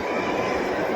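Metro train running through an underground section, heard as a loud, steady rumble and rattle of wheels and carriages with no pauses, close and filling the space.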